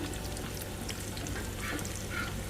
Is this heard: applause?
no